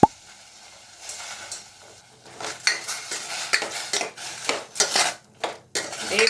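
A spoon scrapes and clinks against a pan as chopped tomatoes with rock salt and a little water are stirred for tomato thokku. The taps and scrapes are irregular and close, and they grow busier toward the end.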